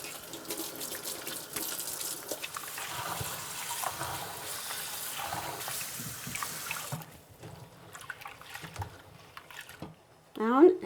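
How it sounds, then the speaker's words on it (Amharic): Running water from a kitchen tap splashes steadily over hands being washed while cooking traditional Ethiopian barley kinche, the flow thinning toward the end before a short louder burst, with someone talking over it. "ስለዚህ እጄን መታጠብ አለብኝ።"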